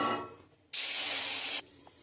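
Pressure-boiled masoor lentils are poured into hot oil tempered with cumin, bay leaf and dried chilli; after a quiet moment, a sudden loud hiss bursts out for about a second, then cuts off sharply.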